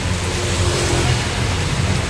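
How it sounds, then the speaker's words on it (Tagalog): Heavy rain falls outside during a Thailand trip as a steady, dense, broadband hiss that fills the whole stretch at an even, fairly loud level, with a faint low rumble beneath it and no voices. "Ang lakas ng ulan."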